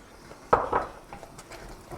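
A breakfast mixture of eggs and fruit is stirred in a pan, a sharp knock of a utensil against the pan followed by a second clack and softer scraping taps, close and fairly quiet otherwise.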